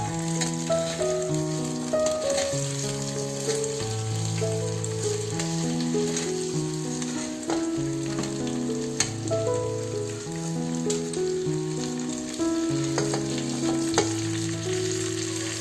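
Vegetables for veg pulav sizzle and hiss steadily in a hot pan, with occasional stirring clinks, while a melodic tune plays in the background.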